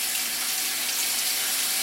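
Tap water runs steadily and loudly over green bananas as they are peeled under the stream. The gush stays continuous and close with no talk.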